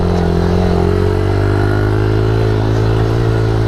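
A Suzuki DRZ 70 small dirt bike ridden by an adult, its small engine running close and loud with a steady, buzzy drone and slight pitch changes throughout.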